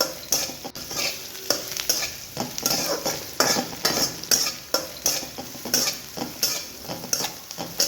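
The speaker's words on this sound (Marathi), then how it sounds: "आता आपण कांदा टाकून घेऊया आता आपण याला परतून घ्यायचं आहे" Onion sautéing in a hot pan for a vegetable dish made for Bhogi, with a steady sizzle and repeated scraping stir strokes of a spoon against the pan, close and alone without talk.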